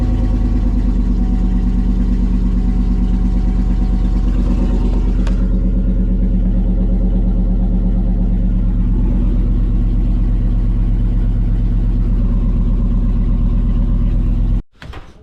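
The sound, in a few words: Yukon Denali engine running and revving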